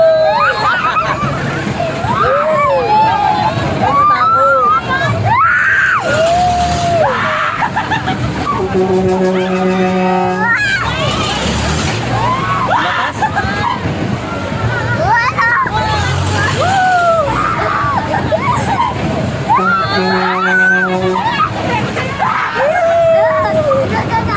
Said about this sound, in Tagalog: Alin, sigaw mo lang.